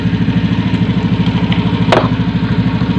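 Honda Beat FI scooter engine idling steadily up close, a fast even chugging pulse that keeps running without stalling, with a brief sharp click partway through.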